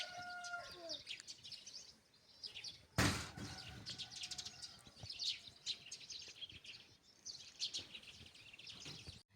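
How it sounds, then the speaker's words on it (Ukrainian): Birds chirping and singing outdoors at a distance in a spring village, with a brief loud clatter of storks partway through and faint background noise. "щоб можна було послухати цей дивовижний дзвін пташок і як лелеки там е, кликочуть"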